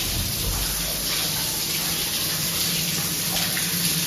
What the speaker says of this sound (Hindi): पाइप फट गई है और पानी निकल रहा है